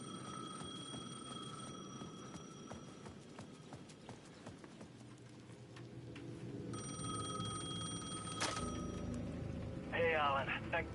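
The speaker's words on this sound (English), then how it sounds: "The payphone at the edge of the plaza was ringing again." A payphone rings at the edge of a plaza in a detective video game, its steady electronic ringing tones running over a clattering, hoof-like background, with a sharp burst near the end.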